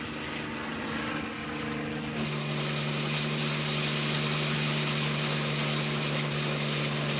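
A small propeller plane drones steadily while circling back to land on Arctic terrain during polar bear tracking, its engine tone close and continuous, growing slightly louder midway.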